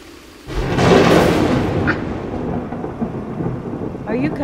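A deep roll of thunder rumbles in loudly after a quiet start, then slowly fades into a steady wash of rain.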